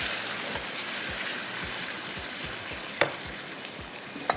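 Beef keema sizzles loudly in a karahi as a little water goes in, a dense steady hiss with a few sharp spits and clinks near the end.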